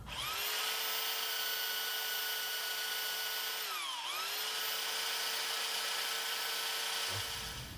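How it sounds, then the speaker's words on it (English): A belt sander smooths the trimmed excess on an iPhone battery mod fitted with a large pouch cell. It gives a steady, close, high motor whine that dips in pitch briefly midway as it bears down, with no talk. "The best way to smooth this out is by using a belt sander."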